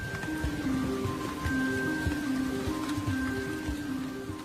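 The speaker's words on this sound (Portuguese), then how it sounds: "Trilhões de litros de água caem do céu" Heavy monsoon rain falls in India as a dense, steady patter across the whole stretch, with faint sustained musical tones layered over the downpour.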